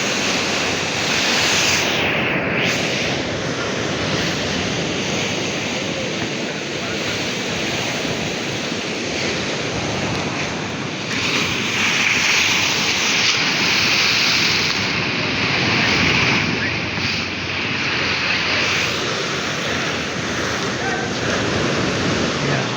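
Strong ocean waves crash steadily on a shore where people jog, a loud, continuous roar of surf with swelling surges, and voices come through faintly at moments.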